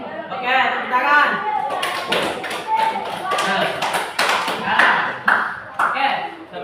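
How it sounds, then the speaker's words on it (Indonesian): A classroom audience applauds, with many hands clapping in a dense, continuous patter that carries on steadily for several seconds, close and fairly loud. "Oke, tepuk tangan."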